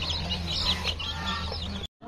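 Young desi chicks, two to four weeks old, peep and cluck in a steady high chatter close by, with a low farm hum underneath before an abrupt cut near the end.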